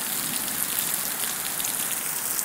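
Heavy rain pours down steadily during an early summer storm in Brisbane in 2010, a dense, continuous hiss of drops striking surfaces close by, loud and unbroken with no voices.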